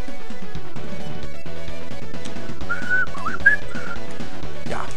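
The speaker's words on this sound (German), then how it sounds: "Ja, mein Pfeifen ist so gut." A person whistles a tune in short melodic phrases over loud, busy background game music from a Mighty Morphin' Power Rangers stage on the SNES.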